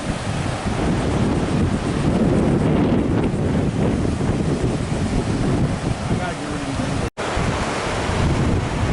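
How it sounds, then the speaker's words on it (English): Ocean surf and gusting wind roar continuously at a seaside lookout at Marineland, loud and broadband with heavy wind buffeting on the microphone throughout. "Okay, so this is all the ocean here"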